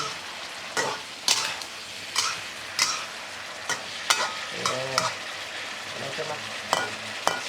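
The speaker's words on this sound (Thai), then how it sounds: "ใส่ผงปรุงรสเราลงไป แล้วคนให้เข้ากันแล้วเดี๋ยวเราตักขึ้นเนาะ" Long beans stir-fried with seasoning in a pan, heard as a steady sizzle broken by regular sharp scrapes and clacks of a spatula stirring, close and clear with no talking.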